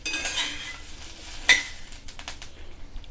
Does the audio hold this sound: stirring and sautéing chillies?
yes